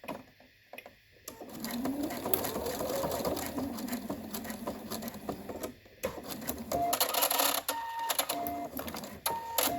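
A sewing machine runs steadily as it backstitches to lock a stitch on a cloth face mask, close and moderately loud, with a brief stop before the motor restarts.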